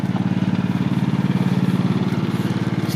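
A 1926 John Deere Model D tractor engine with steel wheels runs steadily up close, a loud, even low thumping putter that holds a constant rhythm throughout with no voices.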